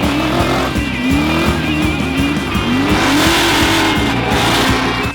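Ford Mustangs, a 1968 model and an RTR-X, do donuts, their engines revving hard in a loud, rhythmic drone while tires squeal continuously through repeated tight circles, close by.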